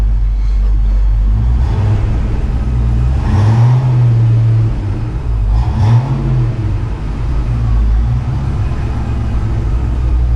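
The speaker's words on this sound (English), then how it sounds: "I'm gonna back this up just a little bit so that the exhaust fumes don't get trapped in the garage here." A car idles steadily with a low rumble after a cold start while backing out of a garage in winter, with two brief rev swells in the middle.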